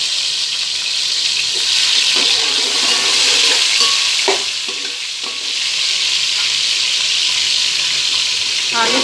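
Garlic-ginger paste and chopped tomatoes sizzling loudly in hot ghee, a steady close frying hiss broken by a few scraping stirs of a utensil.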